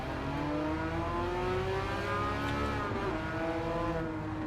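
Race car engine in the video game Gran Turismo 7, revving steadily as its pitch climbs and eases back, a continuous loud drone with no speech over it.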